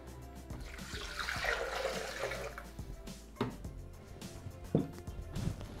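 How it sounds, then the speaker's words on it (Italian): Water runs into a Thermomix bowl in a steady rushing pour for a couple of seconds, followed by a few clinks and soft kitchen sounds. "Aggiungiamo adesso l'acqua."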